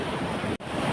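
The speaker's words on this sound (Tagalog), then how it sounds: "So malalaki na rin ang alon, no?" Large waves stirred by Typhoon Uwan crash along the sea at Baler, Aurora, a continuous roaring surf mixed with wind buffeting the microphone, with a brief cut midway.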